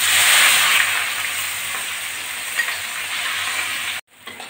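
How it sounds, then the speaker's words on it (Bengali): Onions and garlic cloves frying in hot oil in a wok, a loud steady hissing sizzle that cuts off abruptly near the end, then a brief quieter return. "পেঁয়াজগুলো ভেজে নেব।"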